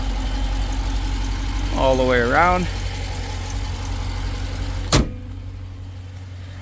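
A 6.4-litre V8 Hemi engine in a 2021 Jeep Grand Cherokee SRT idles with a steady low rumble beneath a man's speech, ending with a sharp click or thump near the end.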